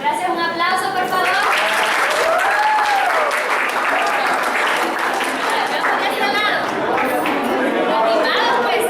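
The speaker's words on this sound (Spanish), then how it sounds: "un aplauso por favor" Sustained audience applause after a talk on resilience, loud and continuous for the whole stretch, with crowd chatter and scattered voices mixed into the clapping.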